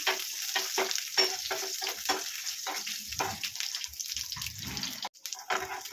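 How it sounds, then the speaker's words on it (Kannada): Garlic and ginger fry in hot oil for a chicken curry, a close crackling sizzle broken by rhythmic scraping and stirring strokes, with one brief dropout near the end. "ಬೆಳ್ಳುಳ್ಳಿ ಶುಂಠಿ ಹಾಕ್ಕೊಳ್ಳೋಣ. ಸೊ ಇದನ್ನ ಫ್ರೈ ಮಾಡ್ಕೊಳ್ಳೋಣ."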